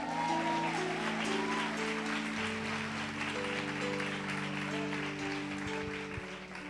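Women in a church congregation applaud during a service, a continuous crowd clapping over sustained organ or keyboard chords, moderately quiet and steady throughout.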